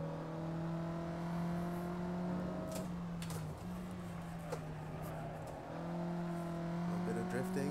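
Race car engine droning and rising under acceleration in Assetto Corsa, a steady tonal whine that dips briefly mid-run amid tire and road noise, then climbs again.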